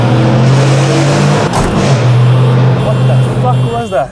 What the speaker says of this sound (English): It is not like that car that just drove past.